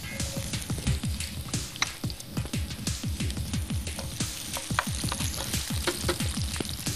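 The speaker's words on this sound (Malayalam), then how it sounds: "എണ്ണ ചൂടായി, അതിലേക്ക് വെളുത്തുള്ളി, ഇഞ്ചി അരിഞ്ഞത്," Chopped garlic, ginger, green chilli and onion fry in hot oil for a Chinese-style vegetable curry, giving a steady close sizzle with crackling pops and stirring scrapes throughout.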